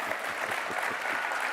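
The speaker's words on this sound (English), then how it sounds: "I know you want to give him a better round of applause." An audience at a summit in Abu Dhabi gives a round of applause, a full, steady wash of many hands clapping together at close-to-moderate distance.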